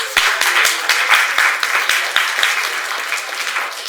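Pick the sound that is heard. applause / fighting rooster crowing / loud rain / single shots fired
applause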